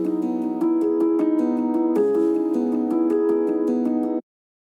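Original piano stem, a short passage of even, rhythmic chord strikes at moderate level that cuts off abruptly before the end.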